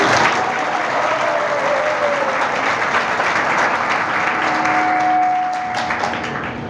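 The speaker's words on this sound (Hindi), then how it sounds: "बजाओ, ताली बजाओ।" A crowd at a devotional ISKCON class claps in loud, dense, continuous applause that holds steady for about six seconds before easing slightly at the end, with a faint tone lingering underneath.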